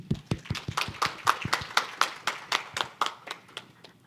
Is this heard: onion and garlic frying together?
no